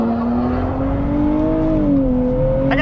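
2023 Nissan Z with a 9-speed automatic transmission pulling hard at full throttle, a loud rising engine whine that climbs, briefly dips at a gear change, and climbs again, heard from inside the car.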